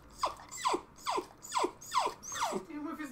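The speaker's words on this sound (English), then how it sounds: "And the dog's crying." A dog whimpers and cries in a series of five or six short, high, downward-sliding whines at a steady rhythm, close and fairly clear, ending in a wavering drawn-out whine.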